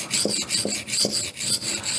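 A HoneyBadger knife is sharpened with quick, even slicing strokes, removing steel in a steady back-and-forth rasp, about five close, gritty scrapes in a regular rhythm with no talking.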